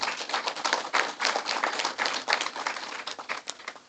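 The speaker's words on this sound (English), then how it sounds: "if you can join me in giving a round of applause to this minister and her team" Audience applause at a business launch event, a brisk run of individual claps with uneven, pulsing rhythm, fairly close and clear, tapering off at the end.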